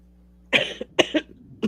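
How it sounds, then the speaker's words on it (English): A few sharp, close coughs in a quick cluster, a brief pause, then another pair of coughs and a final short one, loud against a quiet room. "start coughing"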